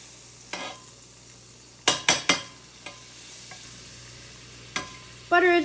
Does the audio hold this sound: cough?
no